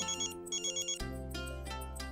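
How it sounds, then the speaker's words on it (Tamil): A bright electronic ringtone plays alone, a looping melodic tune that shifts into fuller, louder chords halfway through. "மாலதி ஃபோன் பண்ணிட்டா."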